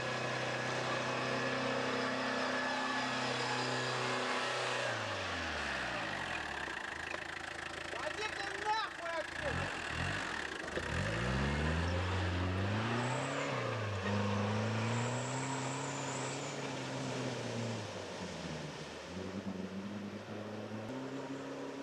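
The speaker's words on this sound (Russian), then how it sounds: "А трактор тут красиво идет, да? Представляешь, ломая льдины." A heavy tractor engine runs steadily while breaking through ice, a low rumble that rises and falls in pitch as it labors and pushes along, with a constant background hum.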